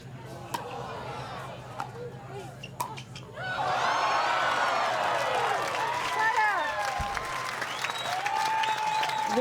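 Applause and cheering break out from the crowd at a women's doubles pickleball match after a long rally. Before that come paddle pops and shoe squeaks, then the clapping swells and holds steady under a commentator's voice.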